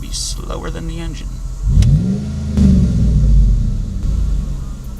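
Dodge Ram Hemi pickup engine revving after an EGR valve replacement: a few deep rising revs over a low idle rumble, close by, with brief talk near the start.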